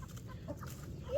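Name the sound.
rooster clucking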